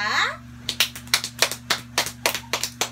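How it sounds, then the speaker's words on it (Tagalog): A small group of students in a classroom claps for about two seconds, a quick run of sharp, close hand claps after a brief spoken line. "Maaari ba nating bigyan ng palakpak ang pangkat 1?"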